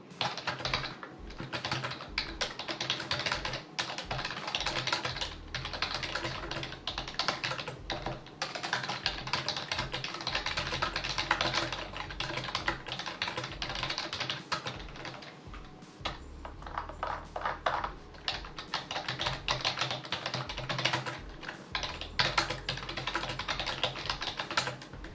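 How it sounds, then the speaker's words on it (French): Typing on a Roccat Horde AIMO membrane gaming keyboard, a continuous close-up patter of soft key presses with irregular rhythm and occasional heavier thumps, alone and without speech. "Je vous laisse avec un petit extrait sonore pour vous faire une idée du bruit du clavier."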